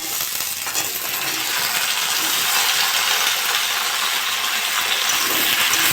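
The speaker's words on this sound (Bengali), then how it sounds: "আমি এবার আলু আর শিমগুলো দিয়ে দেবো" Potatoes and flat beans tossed into a frying pan of fried onion and green and red chillies for a fish and bean-potato curry, giving a loud, steady sizzle throughout.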